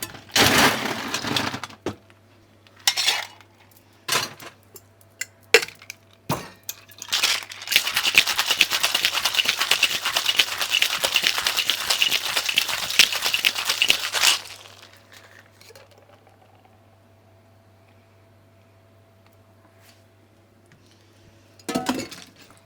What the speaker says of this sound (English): It's time to shake.